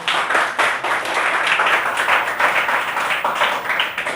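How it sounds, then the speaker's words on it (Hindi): Classroom applause for a student, a dense patter of many hands clapping steadily and fairly loud throughout, with no voices standing out. "ताली बता दो छोरे के लिए प्लीज"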